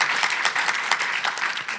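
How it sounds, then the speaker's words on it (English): Audience applause at a county HIV commission panel as a panelist is introduced, a steady wash of many hands clapping throughout, moderately loud. "Round of applause."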